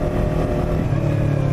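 A motor engine roars at a steady high rev with its throttle clamped wide open by a vice grip, loud and close, a continuous rough drone with no talking over it.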